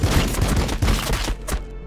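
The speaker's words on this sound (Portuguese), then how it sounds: "Acho que eu vou ter que atirar aqui a queima-roupa" Dense, rapid bursts of gunfire in Warhammer 40k Battlesector rattle continuously, loud and close, with a sharper shot near the end and no talking.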